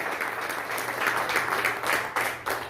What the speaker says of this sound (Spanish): Los que están motivados, denle un fuerte aplauso al Señor.